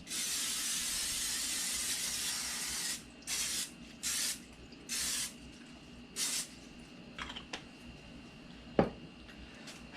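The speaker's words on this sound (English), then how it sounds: "you want to coat it with some sort of spray or butter if you want" A steady cooking spray hisses onto a pan for a few seconds, then comes in several short bursts, close by, followed by a quiet room and a light clink.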